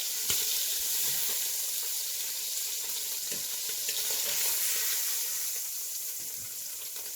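Cod fillets frying in a pan give a steady, fairly loud sizzle with a broad bright hiss that holds throughout, easing slightly toward the end, with no talk over it.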